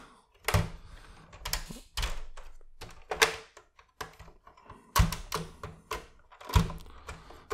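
Plastic parts of a Transformers Masterpiece MP-44 Convoy toy trailer being folded down, giving a series of sharp clicks and thunks spaced irregularly, close and fairly loud with quiet gaps between.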